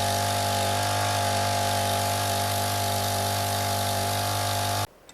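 An engine-driven pump on a shop-built water wagon runs at a steady, even drone, close and continuous, then cuts off abruptly near the end.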